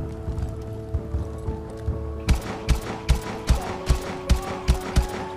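Video game gunfire: a steady series of evenly spaced heavy shots, about one every half second, growing louder partway through over a humming background.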